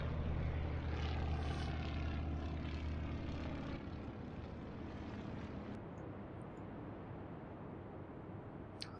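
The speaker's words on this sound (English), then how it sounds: "launch aircraft." Carrier aircraft launching in the Atlantic Fleet naval video game, a steady propeller-engine drone that holds loud for several seconds and then eases off slightly, with no talking.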